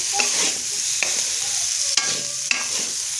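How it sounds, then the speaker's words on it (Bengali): Cauliflower and potato pieces frying with salt and turmeric in a pan, a steady loud sizzle with a few sharp scraping stirs and clinks of the spatula against the pan, no voices. "দেখো লাল লাল করে ফুলকপি আলুটা ভাজছি।"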